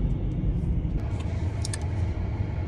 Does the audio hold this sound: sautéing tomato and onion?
no